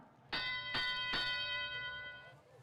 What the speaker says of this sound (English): And that's the bell for teleop.